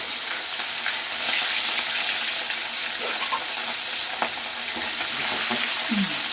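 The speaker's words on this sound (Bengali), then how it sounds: "একদম ছাঁকা তেলে মাছটা ভাজবো" Katla fish pieces deep-frying in a generous amount of hot oil, a loud, dense, unbroken sizzle with a few faint knocks as the pieces are arranged.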